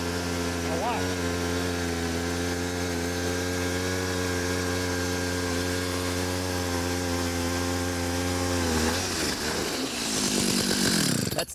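A gas-powered ice auger bores through roughly two feet of lake ice while ice fishing. Its loud, steady engine drone holds for about nine seconds, then cuts off into rougher noise near the end.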